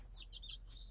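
Young chicken chicks peep in a string of high, thin chirps that overlap and repeat close by, with a low steady hum beneath.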